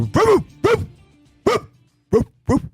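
A person imitates a low dog bark with five short, deep woofs, loud and close, spaced irregularly with brief quiet gaps between them.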